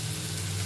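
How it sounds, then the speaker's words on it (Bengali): Potato, beans and cauliflower fry in a pan of oil at home, giving a brief, even, close-up sizzle with no talk. "আলু সিমটা ভেজে নিয়ে দেখো ফুলটা দিয়ে দিলাম"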